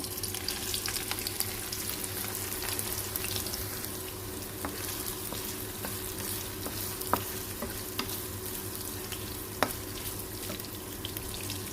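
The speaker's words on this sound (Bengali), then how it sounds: "এরকম করে একটু ভেজে নেব" Soybean chunks fry in mustard oil in a village kitchen, a steady soft sizzle with occasional scrapes and clinks of stirring, quiet and continuous with no talking.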